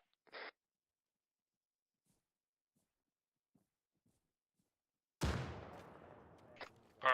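A frag grenade detonates during grenadier qualification training in ArmA 3: a sudden loud blast that rolls off into a decaying rumble, followed by a couple of sharper cracks, after a long near-silent stretch and one brief earlier thump.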